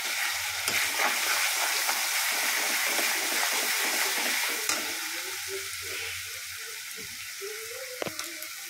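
Garlic frying in a pan with bay leaf and browned onions for a mutton dish, a continuous close sizzle broken by stirring scrapes and clinks, and no talking.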